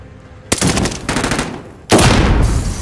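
Gunfire in the video game Call of Duty: Modern Warfare, loud close bursts of rapid automatic fire in two long volleys separated by a brief gap.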